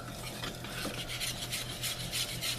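A continuous scraping stir in a pot of sugar mixture, the utensil rasping against the bottom in a steady rhythm, close and fairly loud.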